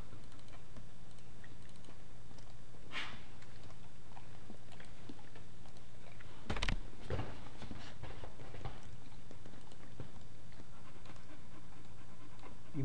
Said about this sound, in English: You might be able to hear my dogs panting.